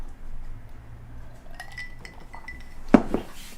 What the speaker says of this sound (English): And there's clinking ice for you, Brittany.